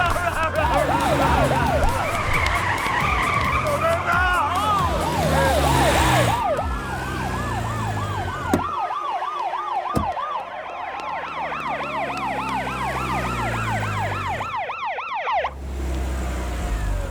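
Police car sirens wail continuously during a car chase, several overlapping rising-and-falling tones that sound loud and close at first, then thin out, over rumbling traffic noise.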